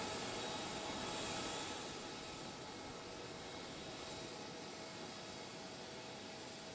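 Airliner cabin during taxi to the gate at Beijing airport on a Dynasty Airlines flight: a steady, loud broadband jet-engine roar and airflow hiss fills the whole stretch, easing slightly after the first couple of seconds.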